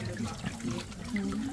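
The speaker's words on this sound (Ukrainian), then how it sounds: "слухаємо шурхіт води" Water running through a levada irrigation channel on a Madeira trail, a steady soft rushing and trickling with dripping, fairly close and alone without talk.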